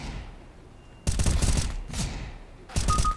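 Rifle fire in CS:GO: three sharp bursts of close, loud shots separated by short pauses, with no talk.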